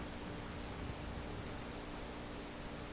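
Steady rain falls in a modded Skyrim game world with Cathedral Weathers, a soft, even hiss of drops on surfaces that continues unbroken and fairly quiet, with no thunder or voices.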